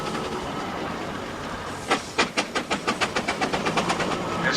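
A steam traction engine and a Scammell lorry haul a heavy load at a 1997 rally. Rapid, rhythmic steam exhaust beats pulse loudly and close, about a dozen sharp chuffs speeding up over a background rumble.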